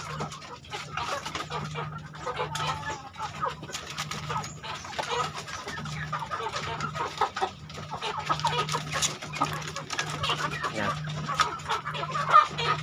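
Chickens cluck softly and repeatedly nearby, a rooster among them, while being fed fruit, with a brief voice heard once over the birds.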